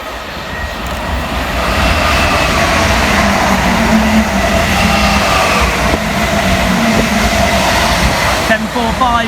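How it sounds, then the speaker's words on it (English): A nine-coach Greater Anglia passenger train rounds a curve on the Great Eastern Main Line, running late, with a loud, steady rumble and wheel noise that builds in the first two seconds and holds close by throughout. "working 1K38 for Greater Anglia from London Liverpool Street through to Southend Victoria. 9 coaches"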